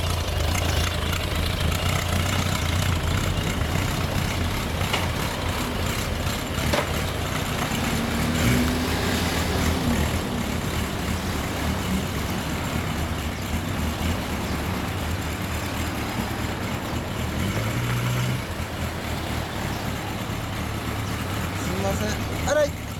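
A 2000 Suzuki Bandit 1200S motorcycle with a Yoshimura exhaust and carburettors idles steadily and close throughout, a low, continuous engine rumble with a couple of brief shifts in tone and faint speech mixed in.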